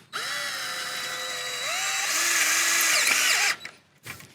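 A power drill drives metal screws in a long continuous whir that rises in pitch partway through, then cuts off, followed by a brief second burst; close and clear with no talk.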